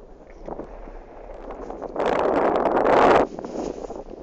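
Wind gusting outdoors in the snowy Cairngorm mountains at the head of Glen Isla, a steady broadband rush that swells into a loud, buffeting gust on the microphone before easing off.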